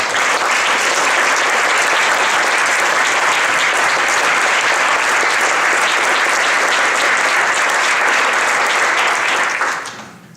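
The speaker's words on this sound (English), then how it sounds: "Let's give Siri a round of applause." A full room at the 2018 Northfield Boards and Commissions appreciation event gives Siri a long, loud round of applause. The clapping is thick and sustained for about ten seconds, then quickly tapers away at the end.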